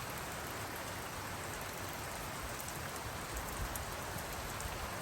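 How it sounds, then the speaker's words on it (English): Rain falls steadily in still, windless air, a soft, even hiss of drops striking surfaces that stays constant and fairly faint throughout, with no other sounds rising above it. "there's no wind, so you can hear the rain falling"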